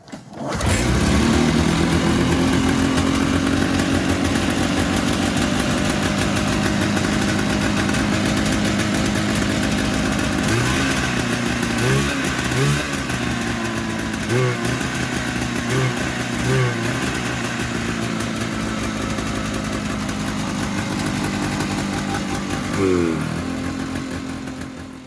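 A 1979 Arctic Cat Trail Cat snowmobile engine with freshly redone fuel lines and a newly tuned carburetor runs steadily and loudly, with a few sharp revs blipping over the idle, and no one talking.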